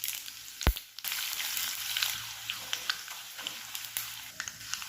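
Fennel, kalonji, fenugreek, mustard seeds and ajwain frying in hot oil for an amla pickle, a continuous quiet sizzle with a sharp knock early on and light crackles scattered throughout.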